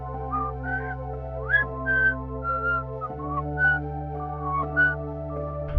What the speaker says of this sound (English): I'm whistling since I don't have my bells with me.